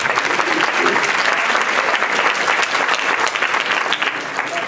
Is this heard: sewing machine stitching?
no